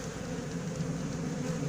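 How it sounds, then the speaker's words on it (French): Black honey bees buzzing around a horizontal hive and a Warré skep, a steady low hum with no pauses, fairly quiet and continuous throughout. "il y a des abeilles noires là-bas"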